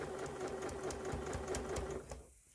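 A sewing machine feeds fabric scraps through for washable paper towels, its close, steady mechanical whir running continuously and then cutting off near the end, with no talking.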